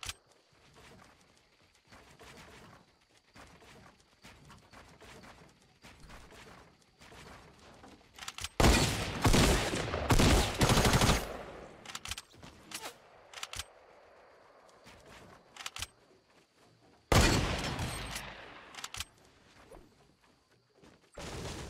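Musket shotgun fire in the Fortnite video game, sharp bursts of repeated gunshots in two loud clusters amid quieter in-game clicks and movement, with faint talk in places.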